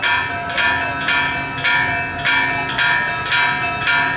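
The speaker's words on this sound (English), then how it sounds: "the bell of the church is sounding" A church bell at San Calixto Park in Timaná rings before mass, striking loudly and evenly about twice a second, each strike ringing with bright overtones that carry over faint background noise.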